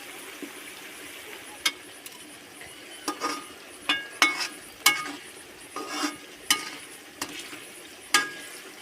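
Onions fry in a pan for biryani while being stirred, a soft sizzle underneath repeated sharp clinks and scrapes of a spoon against the metal pan at an irregular pace.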